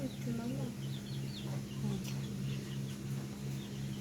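Rhode Island Red chickens clucking and calling softly in the background, under a steady low hum and someone speaking.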